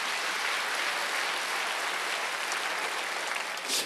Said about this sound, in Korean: 할 수 있는 사람 박수를 하세요.